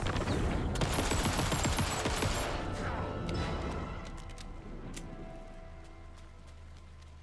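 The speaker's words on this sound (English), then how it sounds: "Damn, this gun just owns." A rapid-firing gun in the video game Alan Wake II lets off a loud, dense stream of shots over the first few seconds, then fades into scattered clicks and quieter tails, with a voice talking.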